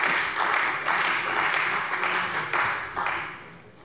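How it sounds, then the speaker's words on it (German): Members of a parliamentary plenary session in Hesse applaud, with broad clapping that swells in several waves and then fades toward the end. "Applaus"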